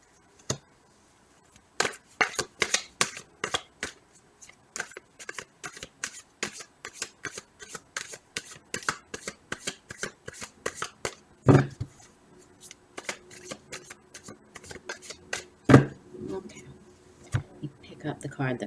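Tarot cards being shuffled by hand for a reading, a long run of quick crisp riffling clicks, close and steady, with a few louder thumps near the end.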